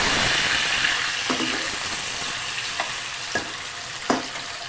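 A tomato frying with cumin in a pan for black chana masala, a steady sizzle that slowly eases off, broken by a few sharp utensil clicks toward the end, close and without talk.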